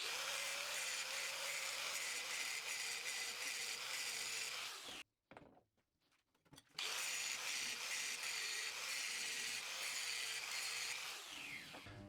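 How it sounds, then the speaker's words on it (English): An angle grinder cleans up welded steel machine riser blocks with a loud, continuous, high grinding whine. It stops for about two seconds, then resumes just as harshly. "I'll just give them a quick clean up with the angle grinder"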